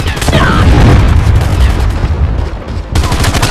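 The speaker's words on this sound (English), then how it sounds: "Friendly Predator missile inbound." Predator missile strike in Call of Duty Mobile, a loud, dense burst of booming gunfire-like blasts that rumble on and fade, then a second hard impact near the end.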